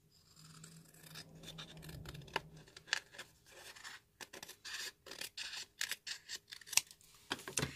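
Scissors cutting through a paper envelope, a close quiet sequence of crisp snips and paper rustles that grows busier toward the end.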